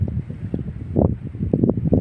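Strong dry wind beside the Mun River in Ubon, in the cold season, buffeting the microphone in steady low rumbling gusts that swell and fade, loud and close, with no voices.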